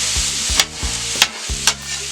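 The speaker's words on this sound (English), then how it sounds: "we got our vegetables back here cooking up" Vegetables sizzle steadily in butter on a griddle, with a scraping stir or tap about every half second over the constant hiss.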